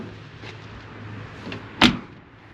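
The door of a 1982 Chevy S10 pickup truck with a V8 swings shut with a single firm, close thump after a quiet moment.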